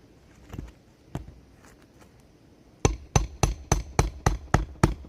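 A few scattered taps, then a rapid run of about eight sharp, evenly spaced hammer strikes on a nail, close and loud.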